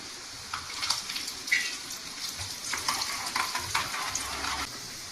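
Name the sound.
garlic and asafoetida sizzling in frying oil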